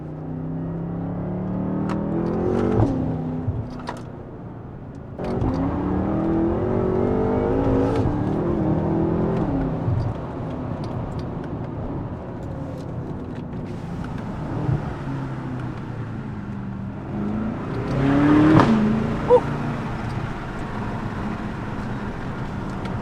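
A BMW F10 M5 V8 fitted with a Valvetronic Designs exhaust, revving and accelerating loudly and steadily throughout, the engine note rising and falling with a sharper high-pitched surge near the end, no voices.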